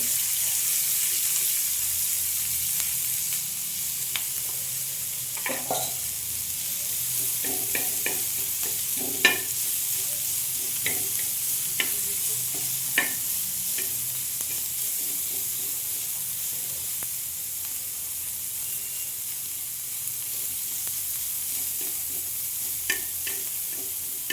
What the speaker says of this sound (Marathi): थोडंसं तेल टाकतो या ठिकाणी कांदा लावतो